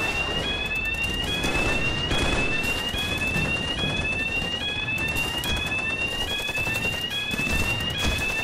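An alarm sounds continuously in repeating rising beeps over a loud, noisy background, steady and close throughout.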